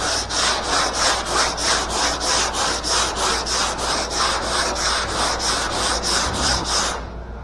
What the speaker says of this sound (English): I want this whole roof sanded so we can put it up in the air